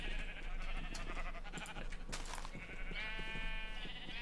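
Sheep in Minecraft bleating, several short wavering bleats over faint background clicks and game sounds, quiet but clear.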